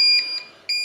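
Security system alarm from a Honeywell Galaxy Flex sounding as repeated high electronic beeps, loud and close, with a short gap before the tone resumes, no talking.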